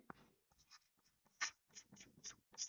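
Chalk or marker taps and scratches on a classroom board in quick short strokes during a chemistry lesson, close and fairly quiet, forming a broken rhythm of about ten bursts with no talk.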